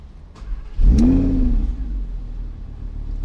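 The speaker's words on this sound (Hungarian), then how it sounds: "Mélyen felugat a 10 henger" An Audi R8 V10 Spyder engine fires up with a sharp starter catch, then a deep ten-cylinder bark and rev flare that settles into a steady rumbling idle, close and loud.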